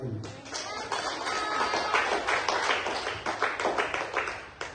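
Congregation clapping in a church service, a dense run of many hands beating together over most of the stretch, loud and close with uneven bursts and no voice above it.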